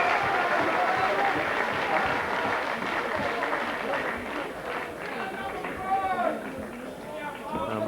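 A boxing crowd at a 1995 WBO Intercontinental title fight cheers and applauds steadily, a dense roar that swells and dips under a commentator's voice.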